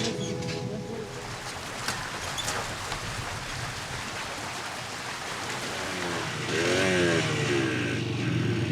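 A motorcycle engine near the Colombia–Venezuela border crossing drones steadily under broadband outdoor noise, then rises into a louder rev toward the end; no voices stand out.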